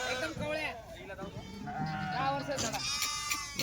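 Several Kathiawadi goats bleat close by and overlapping, amid farmyard noise and people talking.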